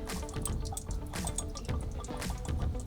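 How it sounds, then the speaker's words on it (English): Water rushes out of the pressure relief valve of a Coleman 17B RV, a steady splashing, dripping flow close by with no talk. "Water should flow out of there like nobody's business."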